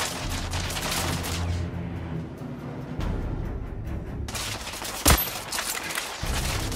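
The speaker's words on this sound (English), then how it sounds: "About to shoot through the wall." Dense sustained gunfire in The Order 1886, a rapid fusillade of overlapping shots rattling continuously with one sharp louder crack near the end, no talk.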